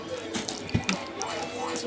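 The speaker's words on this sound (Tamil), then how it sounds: "ஒரு 3 டைம்ஸ் வந்து நல்லா வாஷ் பண்ணணும்." Toor dal being washed in water for sambar, with liquid sloshing and splashing in short bursts and a few drips, close by against steady background noise.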